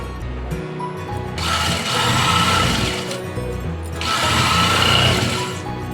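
Electric sewing machine stitching the center seam of a garment, two long bursts of close, fast whirring stitching separated by a short pause, no talk.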